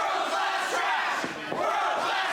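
Loud, continuous roaring and cheering from a crowd at a women's wrestling championship match, a dense wall of voices with brief swells, close and sustained throughout.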